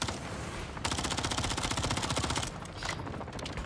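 Rapid multiplayer gun fire in MW3 Zombies: a fast, evenly spaced automatic burst, loud and close, running steadily for a couple of seconds between quieter game noise.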